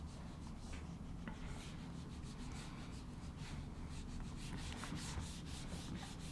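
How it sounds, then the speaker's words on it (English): Writing is rubbed off a board with a series of rapid, rhythmic wiping strokes, soft and close over a constant low hum. "So I can now rub all of this off if I wanted to."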